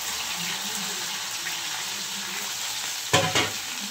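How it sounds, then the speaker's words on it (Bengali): Potatoes, onion, chili and okra sizzle steadily in a hot pan, a close, even frying hiss. Near the end a few sharp clatters of stirring cut in. "এবার দেব আলুগুলো, পেঁয়াজ, লঙ্কা এবং ভেন্ডি।"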